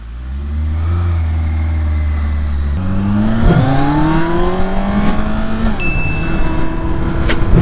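A 2020 Kawasaki Ninja ZX14R motorcycle engine idles low, then revs up through rising, falling throttle blips, loud and close, with a sharp climb near the end.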